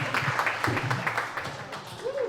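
A crowd at a wrestling event applauds and claps in scattered, uneven bursts, partly beneath someone talking loudly over them.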